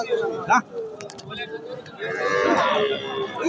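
A cow gives a low moo amid a busy crowd of chattering voices and background bustle at an outdoor cattle market in Dhanbari.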